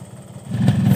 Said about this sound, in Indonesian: Tingkat kebisingan di saat mesin masih dingin ada di angka 71 desibel rata-ratanya.